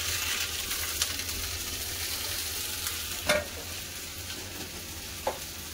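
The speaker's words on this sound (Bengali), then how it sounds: "তেল গরম হয়ে গেছে, কেটে রাখা ভেন্ডিটা দিয়ে দেবো" Chopped okra fries in hot mustard oil in a kadai with a steady, moderate sizzle, broken by a few sharp stirring clicks. No one speaks.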